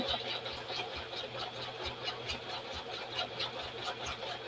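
A sewing machine stitches a decorative pattern with a steady, rhythmic mechanical whirring and regular pulses, close and moderately quiet, with no talking.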